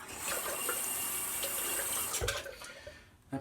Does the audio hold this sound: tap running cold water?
yes